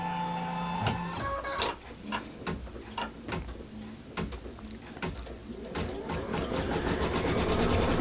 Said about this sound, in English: The first thing we're going to do is stitch out our placement stitch.